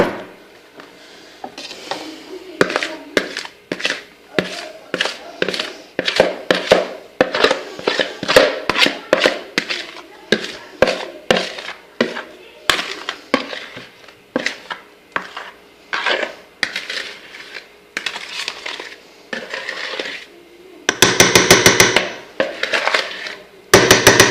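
Repeated scraping and clinking of a utensil against a pan or bowl while making chocolate cake, heard close up in quick uneven strokes, ending in a rapid rattling burst with no talk.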